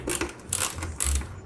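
A 14mm ratchet wrench works an exhaust nut loose on a 2014 Kawasaki Ninja 1000, giving three short bursts of quick metallic clicking, close and fairly quiet.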